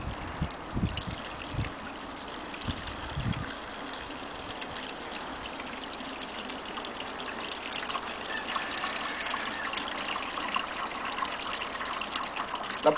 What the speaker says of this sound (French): Ensuite, délicatement, on verse le contenu du seau en démarrant par le liquide.